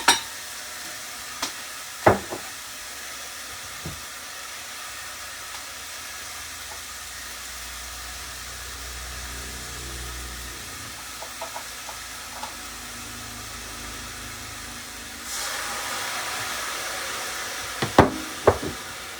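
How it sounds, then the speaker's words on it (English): Broth poured into a hot pan of vegetables and heated toward a soft boil, a steady low hiss and simmer with scattered clinks of a utensil, rising into a louder steamy rush near the end. "I'm going to add some broth and bring it to a soft boil and then cover it."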